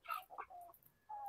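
Basilan native chickens cluck and chirp in short bursts nearby, faint overall, with a brief higher call near the end.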